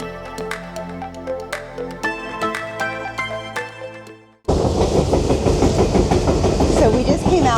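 Train riding on rails, heard from the open back platform of the rear car of the McKinley Explorer bound for Denali in Alaska: music plays first, then a sudden loud, dense rumble and clatter of wheels on track fills the rest.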